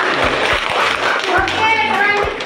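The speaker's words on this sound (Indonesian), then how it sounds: "Tepuk tangan untuk." Children in a classroom clap their hands together in a brisk rhythmic burst of patterned claps, mixed with young voices speaking over it.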